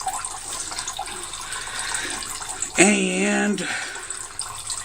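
Whey drains steadily from ricotta cheese hung in cloth, a continuous trickling and splashing of liquid, close and moderately loud, briefly interrupted by a spoken word.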